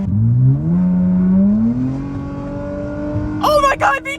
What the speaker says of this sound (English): Oh, my VTEC just kicked in.